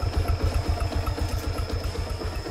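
A 2010 Yamaha Exciter motorbike engine idles steadily up close, its low rapid putter holding an even rhythm throughout with no talking.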